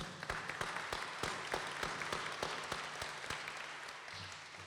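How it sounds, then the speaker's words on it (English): Steady applause from a crowd, many hands clapping continuously with a few sharper claps standing out, fairly loud and sustained throughout. "Let's give them a round of applause."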